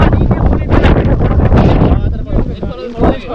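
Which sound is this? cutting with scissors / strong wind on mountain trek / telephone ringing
strong wind on mountain trek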